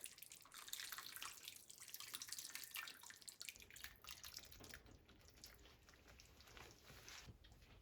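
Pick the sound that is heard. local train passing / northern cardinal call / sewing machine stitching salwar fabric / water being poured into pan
water being poured into pan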